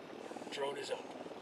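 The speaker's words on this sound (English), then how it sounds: "Drone is up." A drone whirs briefly in the video game Ghost Recon Wildlands, a low steady hum with a voice speaking over it.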